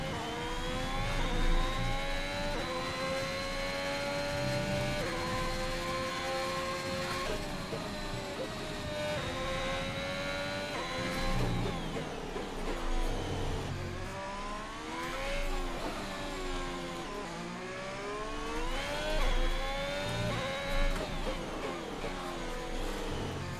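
An F1 car engine from F1 2021, racing a lap of the Brazilian Grand Prix, revs high and steadily with repeated rising and falling pitch as the throttle is worked through gear changes, loud and clear with no talk.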